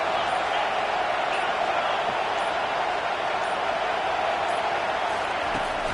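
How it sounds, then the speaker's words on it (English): Stadium crowd at an American football game, a dense steady roar sustained throughout at high level, loud and continuous with no clear breaks. "This crowd trying to make life miserable for this offense."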